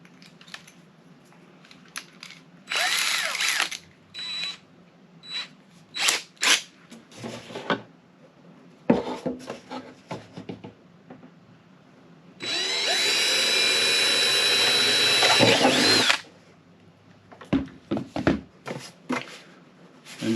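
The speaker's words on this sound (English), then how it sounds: "So what we want to do is drill a hole in the tank" A power drill boring a hole in a plastic diesel fuel tank during an air heater installation, with short whirring bursts, a long steady drilling run in the middle, and scattered clicks and handling noises between.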